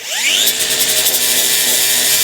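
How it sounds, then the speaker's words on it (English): Power grinder taking weld beads off a seam on the body panel of a 1937 Lincoln Zephyr, a loud, continuous, close abrasive whine that rises in pitch as it spins up and holds. "So let me take these welds off, just see what happened."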